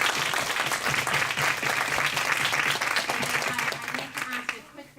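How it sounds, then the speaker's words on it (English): A roomful of people at a school board meeting breaks into applause. The dense clapping holds steady for several seconds with some voices mixed in, then thins out and fades at the end. "A round of applause."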